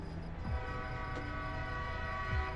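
A train rolls past and sounds its horn in the video game American Truck Simulator, set in Louisiana: a sustained tonal horn over rumbling rail noise, fairly loud and close, with no talk.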